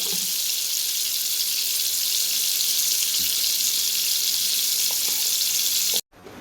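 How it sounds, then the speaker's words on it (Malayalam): Dried fish frying in hot oil in a home kitchen, a steady dense sizzle held at an even loudness for about six seconds before cutting off abruptly. "ഉണക്കമീൻ വറുക്കുകയാണ്"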